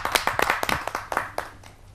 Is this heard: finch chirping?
no